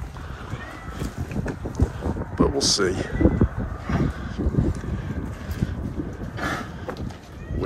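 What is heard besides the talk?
wind blowing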